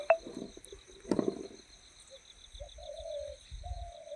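A ghughuti, or spotted dove, coos in Uttarakhand with short, soft, tonal calls in the second half. Steady cricket or insect trilling runs throughout, with a few rustling knocks near the start.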